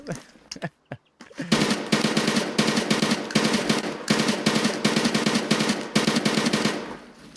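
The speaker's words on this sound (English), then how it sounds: "Alright, dude, stop shooting. Shooting walls over there, man." Video game gunfire rattles in long automatic bursts, loud and close, after a few sparse shots at the start, with no talk over it.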